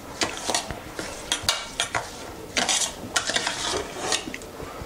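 Spoon stirring saffron into sour yogurt in a bowl for kesar shrikhand, giving a string of close scraping strokes and light clinks in uneven bursts, with no voices.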